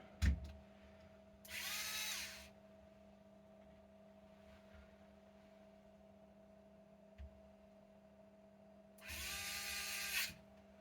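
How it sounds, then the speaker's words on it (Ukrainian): A power screwdriver tightens bolts on a Bosch e-bike, sounding as two short whirring bursts several seconds apart over a steady electrical hum, with a faint click or two between them. "тепер беру силову викрутку і затягую"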